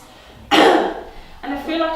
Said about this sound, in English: I'm having to clear my throat a lot